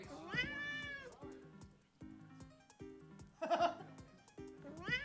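A cat meows repeatedly, begging to be fed, with drawn-out cries over a repeating electronic game-music loop at low volume.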